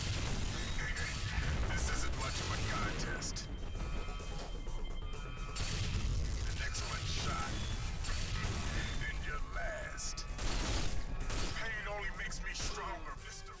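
A rifle grenade fired in James Bond 007: Nightfire, caught within a loud, continuous clatter of game gunfire, crashes and blasts across the whole stretch, with a player talking over it in places.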